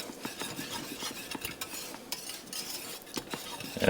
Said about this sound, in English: I'm going to stir this in.